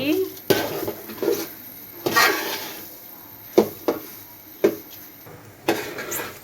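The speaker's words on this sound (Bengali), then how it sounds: "চালটাকে ভালো করে লাইরা সাইরা ভেজে নিচ্ছি" Rice and onion are stir-fried in a pan, with repeated sharp scrapes and clanks of a spoon against the metal over a faint background sizzle.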